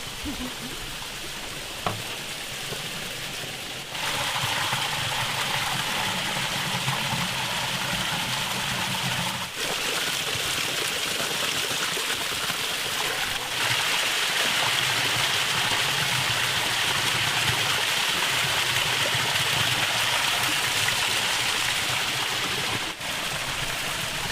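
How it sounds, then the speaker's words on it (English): Spring water runs down a mountain stream in a continuous close rush and babble, broad and even throughout, with faint speech barely present beneath it. "This water here flows from the spring about 50 metres up the mountain."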